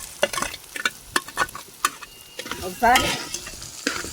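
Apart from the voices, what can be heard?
potato pieces frying with onion, green chili, ginger paste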